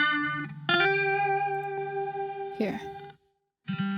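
A sampled tone run through an octave guitar pedal gives a wide, doubled sustained note with a bright electronic shimmer, a short noisy flourish near the end, then silence before the note returns.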